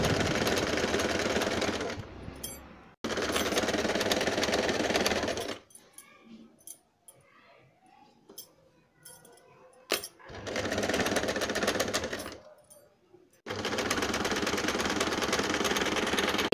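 Sewing machine stitching a gown cut from an old saree, running in loud continuous bursts of steady mechanical whirring, stopping between runs with quieter handling sounds in the pauses.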